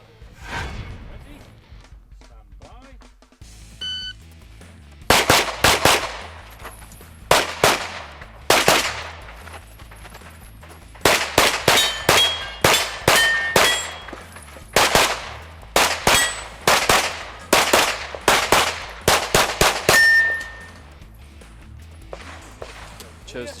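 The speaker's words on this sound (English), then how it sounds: "guys are able to make up time just simply by shooting that steel array on the move" Rapid gunshots ring out in quick bursts at a practical shooting match stage, fired on the move at a steel target array. The sharp reports repeat with metallic pings from the steel, and some talk runs in the background between strings.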